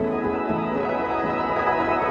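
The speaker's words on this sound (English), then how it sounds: "It's a cacophonous harmony of jittering granules, all tuned to some fifth or octaves off our bass sound." A granular synthesizer sends out dense streams of jittering grains tuned in fifths and octaves above a bass sound, forming a sustained, buzzing, cacophonous chord that pulses slightly throughout.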